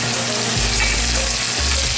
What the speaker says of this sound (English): Now it's nice and hot, so I'm going to put my turkey in there.